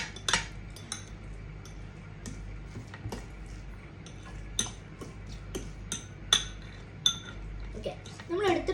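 Utensils scrape and clink against a bowl while ingredients are mixed, with irregular sharp taps and clatters, close by, alongside a person talking.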